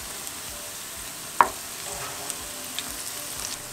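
Bottle gourd koftas made with gram flour fry in hot oil with a steady, quiet sizzle, broken by one sharp pop and a few faint crackles.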